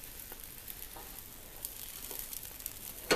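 Beaten eggs for an omelet cook in a pan, giving a faint, steady sizzle with scattered soft crackles and a brief clatter at the very end.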